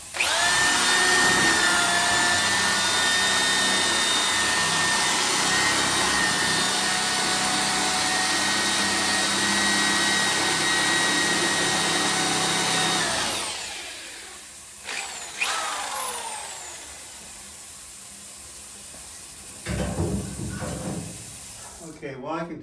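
A power mixer drones loud and steady while stirring a thick ceramic glaze, then cuts off abruptly, leaving scattered clinks and handling noises.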